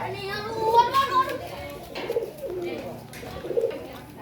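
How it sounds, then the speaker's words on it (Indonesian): Pigeons coo in soft, repeated low murmurs close by, mixed with faint bird calls and scattered voices of people talking nearby. "Merpati tiba-tiba bisa giring ke orang ya"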